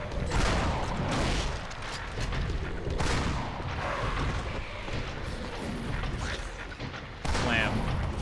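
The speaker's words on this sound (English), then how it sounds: "I accidentally wasted a shot, so I better waste another one." Shotgun blasts in the video game Silent Hill: Origins, heavy booming reports with reverberant tails over a loud, dense game soundscape, with a voice talking.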